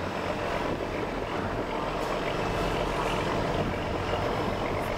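A Cummins K19G4 750-horsepower marine diesel engine aboard a Vietnamese fishing boat drones steadily, a dense, loud, continuous rumble with no talk over it.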